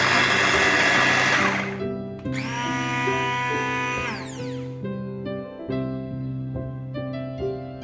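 A Gorenje HBC804QW blender motor whirs loudly and close, its pitch dropping, surging to a high whine, then settling into a steadier, lower hum with slight wavers.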